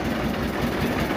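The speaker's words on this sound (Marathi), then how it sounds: "ट्रेन आलेली आहे." The toy train engine at the Elephanta Island jetty rumbles steadily and loudly nearby, a continuous low mechanical drone with no voices.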